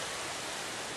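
A creek flows outdoors in a steady, broad rushing hiss of water, close and continuous, with no voices.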